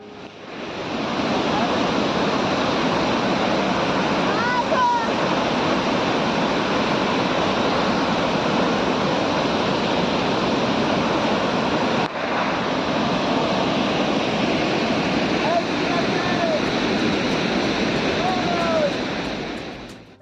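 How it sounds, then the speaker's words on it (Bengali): Dassam waterfall on the Kanchi river drops about 44 metres, and its water makes a loud, constant rushing roar. The sound is broad and unbroken, with faint bird calls and a little wind noise. "জলপ্রপাতটি দেখে মনে হচ্ছে কেউ যেন জল ঢালছে।"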